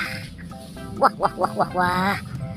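A toy duck gives a run of four bright, nasal quacks in quick succession, then one drawn-out squawk, loud and close over a faint background hum.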